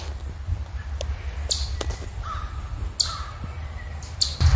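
A bird, likely a crow, caws several times in short sharp bursts over steady low outdoor rumble, captured through a Samsung Galaxy S10 phone microphone while zoomed in; the calls are moderately distant and fairly clear.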